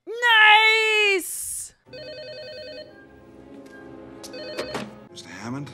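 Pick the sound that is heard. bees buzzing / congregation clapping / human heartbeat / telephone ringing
telephone ringing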